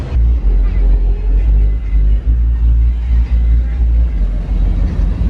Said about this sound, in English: with the Supra Mark IV as the Fast and Furious car is pulling in